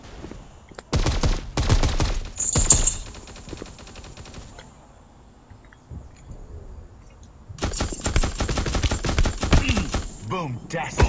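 Rapid gunfire bursts in the mobile shooter Guns of Boom on Android, two loud stretches of repeated shots separated by a quieter pause, close and punchy with little talk.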